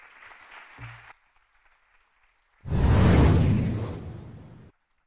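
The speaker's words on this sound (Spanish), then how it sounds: "Un aplauso." Audience applause after a Spanish-language astrobiology lecture, a loud, dense burst of clapping lasting about two seconds that follows a few quieter, scattered sounds.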